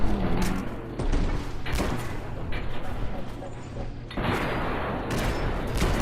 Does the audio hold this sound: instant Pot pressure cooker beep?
no